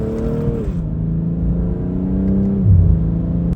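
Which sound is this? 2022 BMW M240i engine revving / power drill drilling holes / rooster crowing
2022 BMW M240i engine revving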